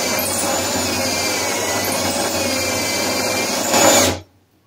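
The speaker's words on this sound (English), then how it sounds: "This is about the depth I hit stainless before at the end of this little 10 millimeter bit." A power drill fitted with a small 10 mm bit bores steadily into a sailboat's daggerboard, giving a continuous close, loud whine for about four seconds before stopping abruptly.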